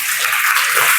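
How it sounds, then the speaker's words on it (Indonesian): A classroom of students applauds a classmate, a brief, steady wash of clapping from many hands filling the whole moment without any speech. "Kita tepuk tangan dulu untuk Ella"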